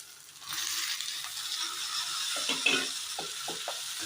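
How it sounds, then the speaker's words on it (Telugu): Cucumber pieces go into a pan with turmeric and are stirred, a soft sizzle and hiss with a few light scraping knocks toward the end, close and fairly quiet. "దీనిలో దోసకాయ ముక్కలు వేసేద్దాం"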